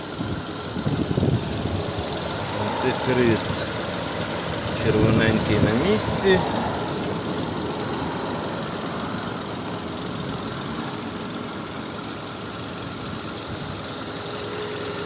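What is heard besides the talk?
car engine idling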